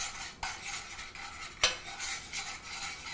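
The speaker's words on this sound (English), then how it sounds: "we're making our roux as we build the sauce" Flour being whisked into hot fat for a classic brown sauce roux, a steady scraping stir with two sharp metallic clicks of the whisk against the pan, close and moderately quiet with no talk.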